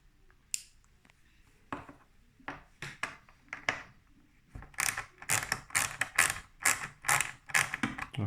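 Screws are worked loose on a Dolce Gusto Circolo coffee machine, sparse clicks and scrapes giving way to a quick series of sharp ratcheting turns of a tool, close and crisp with quiet gaps.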